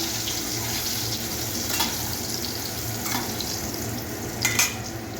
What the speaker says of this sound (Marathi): यात घालणार आहोत आपण हे बॉईल केलेले बटाटे, हे चांगले आपल्याला तळून घ्यायचे आहे।